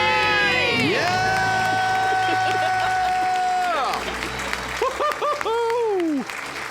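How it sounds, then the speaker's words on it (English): A studio audience bursts into a loud, sustained cheer with a long group scream after a countdown, then breaks into clapping and whoops. "Let's hear a debt free scream."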